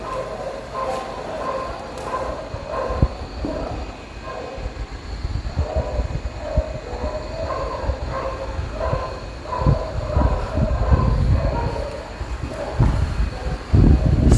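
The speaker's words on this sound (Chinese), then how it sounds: "这感觉好像是狗狗在打群架啊。" Dogs outside bark repeatedly and aggressively as if fighting in a pack, a mix of sharp yips and deeper barks over a low rumbling background.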